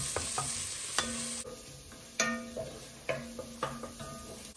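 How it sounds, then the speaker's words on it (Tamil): Onions and vegetables such as carrot and cabbage sautéing in a pan, a soft background sizzle broken by several sharp spatula knocks and scrapes against the pan, close and fairly quiet. "இனி இதுவும் கொஞ்சம் வதங்கி வரட்டும்."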